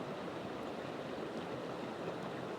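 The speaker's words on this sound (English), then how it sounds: "Just this babbling brook behind me." A babbling brook flows steadily and softly, a continuous gentle wash of running water with no voices.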